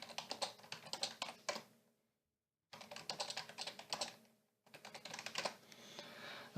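Quick typing on a computer keyboard in fast clattering bursts, close and clear, broken by a sudden silent gap of about a second and a shorter cut before the key clicks resume.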